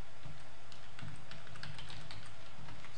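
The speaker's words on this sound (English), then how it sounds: "So I type in password 12." Typing on a computer keyboard, a quick irregular run of close, light key clicks lasting a few seconds, with no voice heard.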